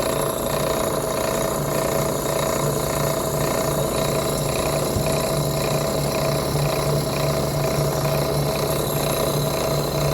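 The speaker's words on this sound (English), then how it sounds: "I'm drilling holes for the joystick mounts" A power drill bores holes for joystick mounts in a home-built arcade cabinet project, giving a steady, loud whirring drone throughout with no pauses.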